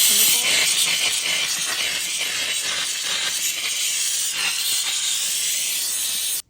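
Steady, loud hiss of steam from a KOITAT handheld steam cleaner, a continuous broadband jet running unbroken for about six seconds before cutting off abruptly.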